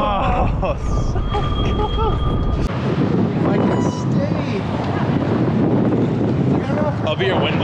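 Heavy wind buffets a GoPro microphone during a mountain bike street trials ride in San Francisco. The roar is loud and continuous, and voices talk partly under it.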